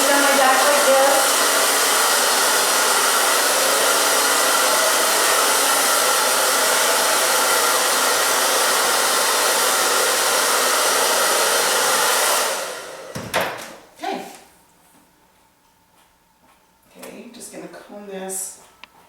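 A hair dryer runs loud and steady for about twelve seconds while drying short hair during a styling session, then cuts off, leaving quiet handling noises and brief talk.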